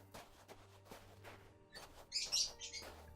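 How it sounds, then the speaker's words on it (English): Pet birds indoors give a few sharp, loud chirps and tweets in a short cluster among quiet room noise, with no talking. "I have a very, very loud, upset bird right now."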